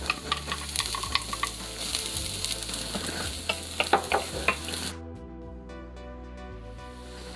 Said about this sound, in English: Now we're just gonna add the garlic.